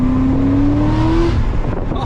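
A C6 ZR1 Corvette drives on the road, its engine a loud steady drone heard from inside the cabin, easing off toward the end.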